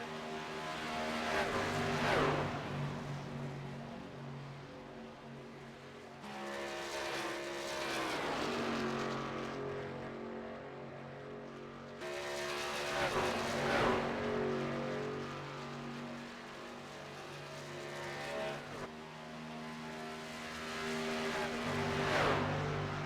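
Race truck engines roar in a racing video game's Auto Club 100 truck series event, a steady droning whine that rises and falls in repeated waves as the trucks accelerate and shift.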